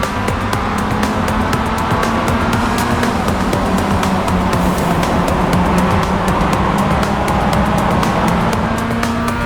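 Mazda MX-5 Cup race cars on the grid at Laguna Seca, a steady loud engine drone running the whole time with no break, close and continuous, with no talking.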